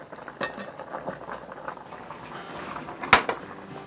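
Chicken stew simmering in a pot while cut potatoes are dropped in, with a steady low bubbling hiss, soft stirring and a sharp clatter of utensil against pot near the end.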